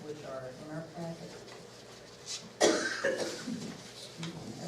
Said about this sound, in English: I have a cold. I started coughing intermittently.